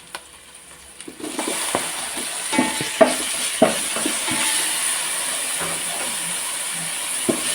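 Tomatoes, added after green chilies, fry in hot oil in a pan for a chicken dish, with a steady sizzle and hiss and repeated scraping clicks of stirring, close and fairly loud, no voices.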